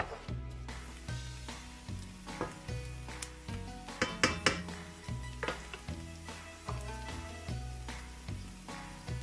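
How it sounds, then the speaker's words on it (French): Onions and garlic sautéing in a pan over medium heat, a steady sizzle with repeated scraping and stirring strokes and occasional utensil clinks against the pan, close and moderately loud. "On va faire revenir les oignons et l'ail à feu moyenne pendant 5 minutes."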